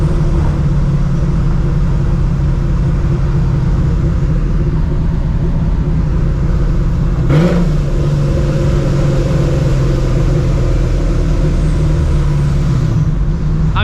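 A procharged 2V Mustang GT with a 4.6 V8 and open exhaust cutouts rumbles loudly and close, a deep steady idle with a brief blip of revs partway through and no talking.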